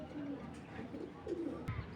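A male Belgian bloodline racing pigeon gives soft, low coos, close and faint, over a steady background hum with a brief click near the end.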